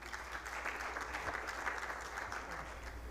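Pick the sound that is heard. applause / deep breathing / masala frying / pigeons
applause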